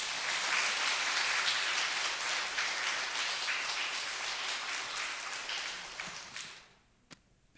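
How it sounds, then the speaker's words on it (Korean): A church congregation claps together in dense, sustained applause for several seconds before it thins out and stops, leaving near silence with one last stray clap. "우리 힘내라고 박수로 한번"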